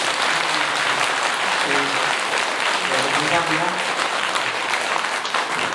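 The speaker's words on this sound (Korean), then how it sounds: "지금 한번 박수 한번" An audience at a Buddhist temple ceremony for enshrining Buddha statues breaks into sustained applause, a dense, even roar of many hands clapping throughout, with faint voices underneath.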